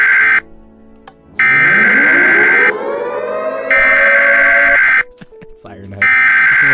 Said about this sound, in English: next we have our EAS alarm screech.